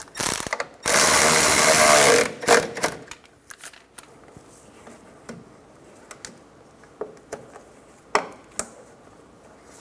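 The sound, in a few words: ratchet tightening 10mm bolt on Toyota Highlander wheel arch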